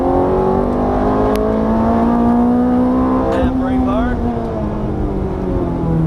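Ferrari F430 engine on a racing track, a steady loud drone from inside the car as the throttle is squeezed, with pitch climbing slowly and a brief shift midway, an instructor's voice talking over it.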